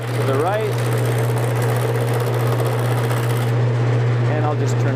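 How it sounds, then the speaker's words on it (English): A wood lathe hums steadily at close range while a chisel cuts into a spinning wooden mallet blank, with a constant motor drone and rough cutting noise under a voice. "as I slowly move the chisel into the wood, I can move the chisel to the left"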